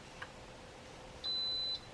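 A single steady electronic beep sounds for about half a second, clear but fairly quiet against faint room hiss.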